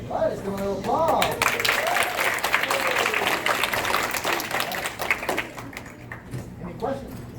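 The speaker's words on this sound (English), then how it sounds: "let's give him a little applause." Schoolchildren applaud after a dog demonstration at a Miami school, a steady patter of many small hands clapping with excited voices over it, tapering off toward the end.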